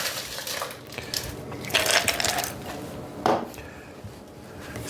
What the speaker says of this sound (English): With some ice.